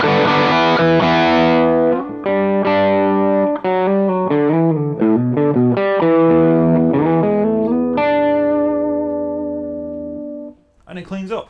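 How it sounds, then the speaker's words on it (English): An electric guitar plays a run of notes through a Suhr distortion pedal, thick and saturated, the last note ringing out and fading. "Distortion pedal that cleans up."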